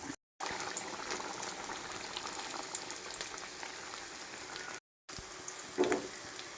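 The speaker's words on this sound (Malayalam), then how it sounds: "ഒന്നാം പാൽ ചേർത്ത് കൊടുത്ത് പിന്നെ ഒരുപാട് സമയം തിളയ്ക്കണ്ട" Fish curry simmers after first coconut milk is added, a quiet steady bubbling hiss with a brief stir or clink near the end.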